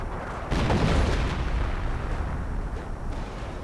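Artillery fire in a World War II real-time strategy game, heard as a loud boom at the start, then a sustained rumbling roar of battle noise that carries on at a steady level with no talking.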